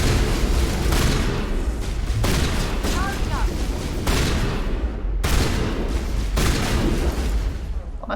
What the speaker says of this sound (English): I think it's time to see what this shotgun's like.